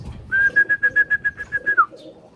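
A pigeon gives a close, loud cooing call: a rapid series of about a dozen throbbing pulses on a steady tone, ending in a brief falling note.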